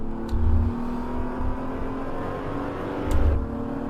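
A BMW Z4 engine in the racing game Assetto Corsa hums steadily, swelling into two short revs near the start and end, with a constant whirring drone between them.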